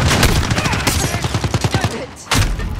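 Rapid gunfire in a Call of Duty video game, loud close bursts of automatic shots in a fast rhythmic string, broken by a brief lull before a final blast.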